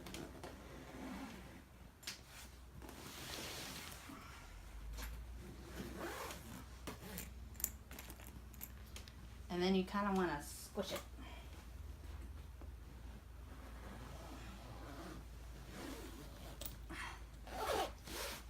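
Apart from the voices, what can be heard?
zipping up a carry-on suitcase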